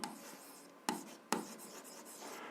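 A pen writes an equation by hand on paper, a close, steady scratching with two sharper taps partway through, and no talking.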